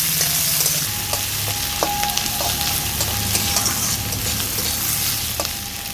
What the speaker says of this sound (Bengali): এবার এই তেলে দিয়ে দিচ্ছি পেঁয়াজ কুচি, দিয়ে দিচ্ছি গোটা রসুন।